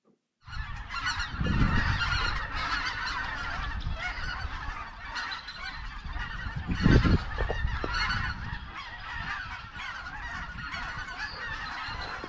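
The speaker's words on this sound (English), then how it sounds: "there's a lot of snow geese" Large flock of snow geese flying over a dairy farm, honking continuously in an overlapping chorus, loud and near at times, with a couple of low bumps in the background.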